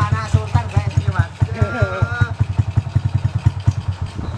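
A motorcycle engine chugs along a busy roadside in a rapid, throbbing rhythm, fairly close and loud, while people talk over it.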